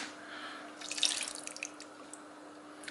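Water runs and drips while a pan is rinsed at the sink for an oxtail osso bucco, a soft splashing trickle that swells briefly and then settles into light drips, with no talking.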